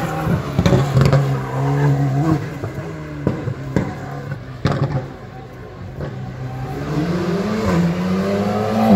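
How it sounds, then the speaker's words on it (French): A rally Alpine driven by Cédric Robert on a special stage in Antibes revs hard through repeated gear changes, its engine note climbing and dropping in sharp bursts, close and loud. "Cédric Robert et Mathieu Duval avec l'Alpine sont sociétaires du type Bonneton HTG."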